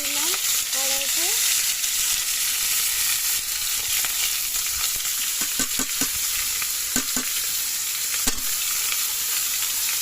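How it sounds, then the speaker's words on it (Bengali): Fish frying in a wok (kadai) sizzles loudly and continuously, with a brief voice near the start and scattered clicks and scrapes of a spatula against the metal. "মাছ দিয়ে দিলাম কড়াইতে।"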